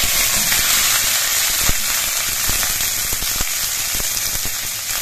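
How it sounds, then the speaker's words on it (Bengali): Sliced onions hit hot oil already seasoned with whole spices and slit green chillies, frying with a steady, dense sizzle and scattered crackling pops, close and continuous with no talk. "ফোড়ন আর কাঁচা লঙ্কাটা ভাজা হয়ে যাওয়ার পর এর মধ্যে কোচানো পেঁয়াজগুলো দিচ্ছি।"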